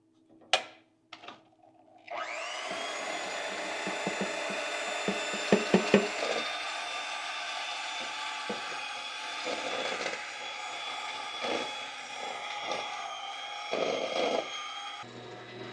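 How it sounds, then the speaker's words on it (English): A vacuum pump degasses freshly mixed investment for bronze casting, starting after a few sharp knocks and settling into a steady, bright hum. Scattered clicks and bumps sound over it. "This is the first vacuum after we've mixed."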